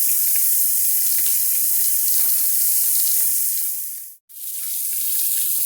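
Chicken and spaghetti squash fry on a Blackstone griddle, a steady loud sizzle that runs continuously, briefly drops out, then resumes.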